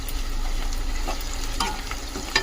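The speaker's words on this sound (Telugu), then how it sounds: "పసుపు వేసుకొని కొంచెం అలా కలుపుకోవాలి" Onions frying in a pan as turmeric is stirred in for a gongura dried-shrimp curry, with a loud continuous sizzle and scraping spoon strokes close up.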